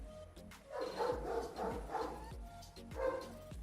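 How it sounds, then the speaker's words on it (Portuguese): Dog barking in a room during a makeup session, a series of muffled, fairly faint barks in an irregular rhythm. "E o cachorro tá querendo participar do vídeo."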